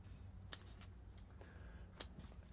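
Two sharp, crisp snips of bonsai shears cutting taxus branches, spaced about a second and a half apart, close and clear over a quiet background.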